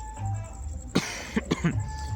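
A man coughs several times in quick succession, close and fairly loud, a sharp first cough followed by a few shorter ones over low room hum.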